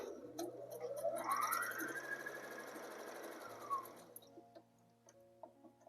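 A sewing machine running in a close, quiet room as fabric sides are stitched for a latkan, a continuous whirring hum that rises in pitch, holds, then slows and stops, followed by faint ticks.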